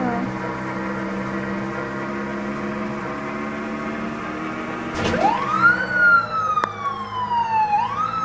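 Police sirens in the GTA 5 video game: a steady engine hum, then sirens start mid-clip with loud rising and falling wails over the game's traffic noise.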